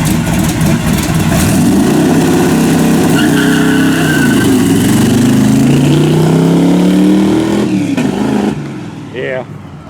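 A 1976 truck with a tunnel ram engine revs loudly and steadily on a street dyno, its strained engine note rising and falling under load for about eight seconds before dropping away, with a brief voice near the end.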